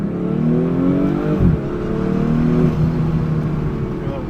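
A wrecked 2023 BMW M240i being rebuilt, with a slipping, low-oil transmission, gives a high, steady whine layered over the engine drone as it drives, with faint voices underneath.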